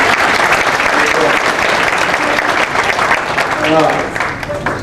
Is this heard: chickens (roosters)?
no